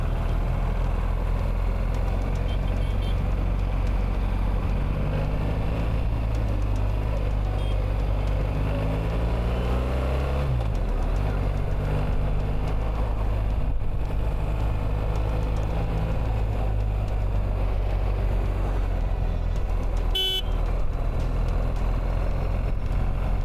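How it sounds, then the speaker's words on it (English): A BMW R 1300 GS motorcycle's steady engine drone runs throughout while riding, its pitch rising and falling with speed, mixed with constant wind rush. "Now you can hear the bike's engine."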